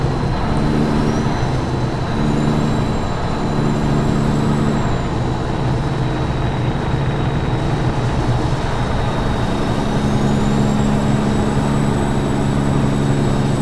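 A Ford LTL9000 truck drives in American Truck Simulator, its engine droning loud and steady with a low rumble and a faint rising whine, continuous throughout with no talk.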